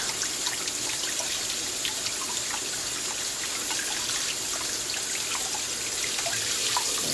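Water runs steadily from a tap, rinsing paint off a hydro-dipped part, a continuous hissing trickle with scattered small splashes, close and unbroken for the whole stretch.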